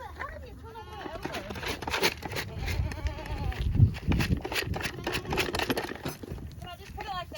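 A goat bleats a few times, faintly and fairly close, while people talk over it, with shuffling and handling noises around them.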